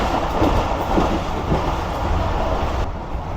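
The long Rehman Baba Express passenger train rolls along with a steady, loud rumble and rhythmic clickety-clack of wheels on the rails, heard from on board without a break.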